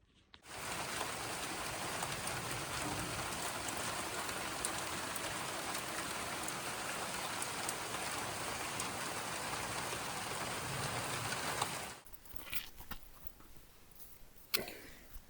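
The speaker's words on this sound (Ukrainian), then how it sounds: "На вулиці дощ" Rain falls outside a village house under renovation, a steady, even patter that holds for about twelve seconds before cutting off and leaving quieter room sounds.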